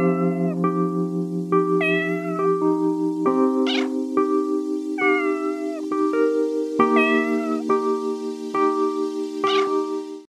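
Cats meow repeatedly in a sad compilation, the cries rising over a steady, mournful musical backing that runs the whole way through.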